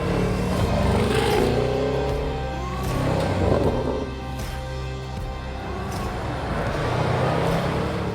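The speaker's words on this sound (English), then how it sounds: "One thing this car is dominated by is the engine. That supercharged V8. It's so nice, and when you get up into the high RPMs," A supercharged V8 engine in a Jaguar Zagato shooting brake revving hard at high RPM, a loud sustained roar rising and falling in pitch across several pulls.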